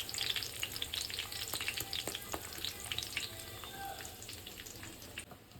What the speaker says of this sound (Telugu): ఇంగు పొడి వేస్తున్నాను